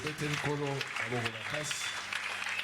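Church congregation at a Thursday worship service cheering and clapping, sustained crowd noise with voices singing or calling over it, fairly loud throughout.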